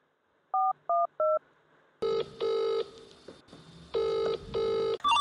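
A phone number is dialed with three short touch-tone beeps, followed by louder, longer keypad tones in uneven bursts, all crisp and close.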